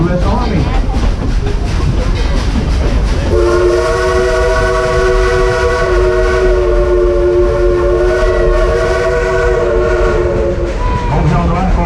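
Dollywood's 2-8-2 steam locomotive rumbles along loudly and close by with continuous rolling noise, and a long sustained whistle blast sounds through the middle of the run.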